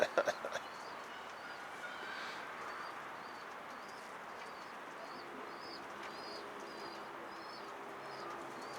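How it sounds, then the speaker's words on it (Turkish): A bird known locally as the Israeli post coos outdoors in a soft, repeated series of short calls, faint against a quiet background hiss, with a few brief knocks at the start. "Arkadaşlar bu İsrail postası denilen kuş herhalde."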